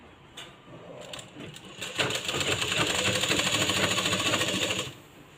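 A sewing machine runs a double line of stitching on a blouse, starting with a few short bursts, then a steady fast mechanical chatter for about three seconds before stopping.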